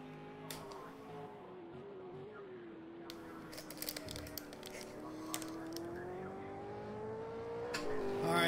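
An opponent's race car engine in Project Cars 2 at Bathurst, a steady droning growl whose pitch slowly dips and then climbs again, swelling louder toward the end under continuous game noise.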